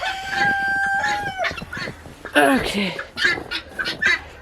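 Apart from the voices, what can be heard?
guinea fowl calling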